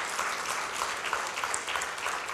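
A church congregation claps during an Icelandic-language worship service, giving a steady, moderately faint patter of many hands for a couple of seconds with no voices over it.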